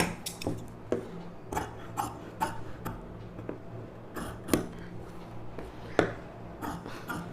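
Scissors snip through silk cotton lining fabric for a blouse, sharp crisp clicks coming in an irregular rhythm, close and fairly quiet.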